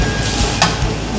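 Garlic sizzles in oil and butter in a pan while making Egyptian molokhia, a brief steady crackle with a quick stirring scrape.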